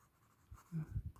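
Handwriting on paper while a French email's closing is written out: a quiet stretch, then a few short, close scratching pen strokes near the end, with no talk.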